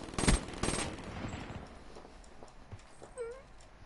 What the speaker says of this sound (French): Les balles qui s'échangent.